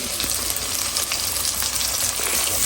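Onions sauté with salt in a clay pot for fish curry, giving a steady, fairly quiet frying sizzle with faint crackles throughout.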